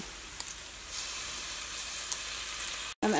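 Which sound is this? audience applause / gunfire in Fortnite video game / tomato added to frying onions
tomato added to frying onions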